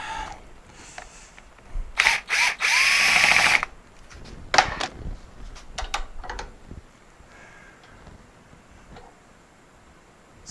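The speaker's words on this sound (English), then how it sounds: "Let's deburr this hole real quick." A drilled hole in metal on a rotary welding table build is deburred with a tool that gives a brief loud whirring burst near the start, then a few clicks and handling noises at a lower level.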